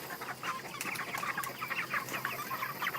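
Five-week-old chicks cluck and cheep in a busy, steady chorus of short repeated calls, close by and continuous, with no talking.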